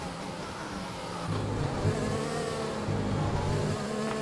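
F1 race cars in the F1 video game drone past at a steady distance after a restart, their engines a continuous buzzing whine that swells slightly partway through, with no voices.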